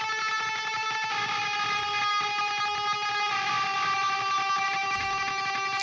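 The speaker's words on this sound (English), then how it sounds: "the next thing I did was I added a lead guitar, or what they would call a production guitar" A lead production guitar in a metal track, drenched in heavy delay and reverb and EQ'd to sit in the mix, rings out in sustained washy tones at a steady, moderate level.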